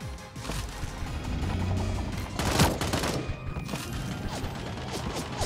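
Gunfire in the Sausage Man battle royale game, a busy rattle of rapid shots and mechanical clatter, with a louder cluster of cracks midway, continuous across the stretch without speech.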